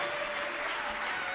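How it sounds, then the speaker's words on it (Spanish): A church congregation claps together in a brief, dense burst of applause that is steady and fairly quiet throughout. "Dele un aplauso al Señor con todo su corazón"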